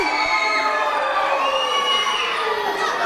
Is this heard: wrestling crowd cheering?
yes